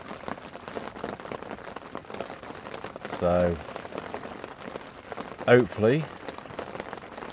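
Steady rain patters down on a syndicate carp fishing lake, a constant close hiss on the water and surroundings, with someone speaking briefly twice over it.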